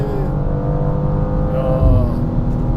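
A 2024 BMW M2 in Sport Plus mode pulls hard on the road, its engine a loud, steady drone heard from inside the cabin that rises slightly in pitch.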